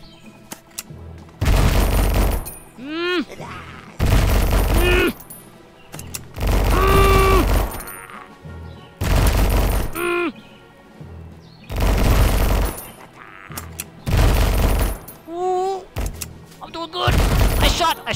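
Bursts of game gunfire in Conker, the shooter multiplayer, come in six or seven loud, dense volleys of a few seconds each, separated by short quieter gaps with chirpy effects and game sounds.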